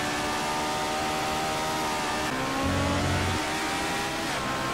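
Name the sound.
BMW 320 race car engine accelerating in GT Legends video game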